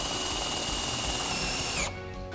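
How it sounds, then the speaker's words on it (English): Power drill driving side entry screws into Westbury Riviera Series stair rail hardware, a steady high whine under load for about two seconds before the motor drops and winds down. "we're ready to do the side entry screws to attach the rails to the hardware"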